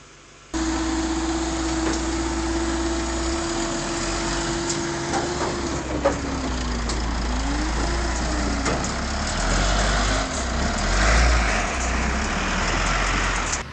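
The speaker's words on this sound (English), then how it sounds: "Yet supply trucks keep coming, carrying food, fuel, and life to isolated villages." A supply truck drives along the Transamazônica highway in Brazil, its steady engine drone rising and falling in pitch as it works through gears, a continuous low rumble with road noise and no speech.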